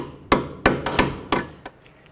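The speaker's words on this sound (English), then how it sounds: "Just take a hammer and tap it in." A hammer taps a 6mm hex bit into a sway bar link stud on a 1996-2004 Nissan Pathfinder, giving about six sharp, close metallic strikes at an uneven rhythm.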